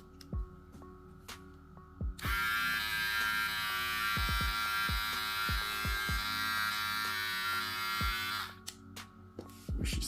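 A Wmark NG-311 hair clipper runs for about six seconds with a loud, steady, close electric buzz. Brief clicks and handling knocks come before and after it, and a few thumps sound while it runs.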